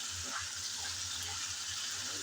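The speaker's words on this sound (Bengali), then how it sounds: "কিছুক্ষণ নেড়ে চেড়ে চিকেন আমি ভালোভাবে ভেজে নিলাম" Chicken fries in a pan while being stirred, a faint steady sizzle with soft scraping strokes of the spatula.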